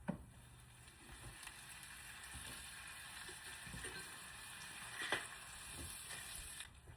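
Buttered bread is laid in a hot pan already used for cooking shrimp, giving a soft, continuous sizzle with a few faint clatters and bumps. It stays quiet and close, with no talking.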